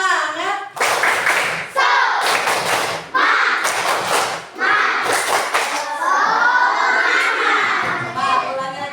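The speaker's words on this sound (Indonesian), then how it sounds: "coba tepuk semangat" Schoolchildren in an elementary school classroom do a rhythmic spirit clap, bursts of loud group clapping and thumping in a patterned beat, separated by short chanted shouts from the class.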